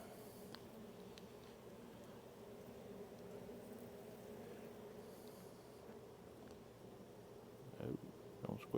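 Honey bees hum at a hive during the June honey flow, a steady faint drone close by, with a voice speaking softly over it near the end.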